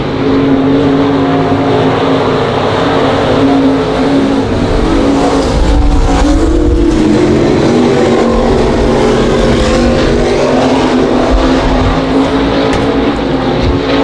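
Race cars at Monarch Motor Speedway make a loud, steady engine roar that swells and fades slightly as the pack passes, with no pause throughout.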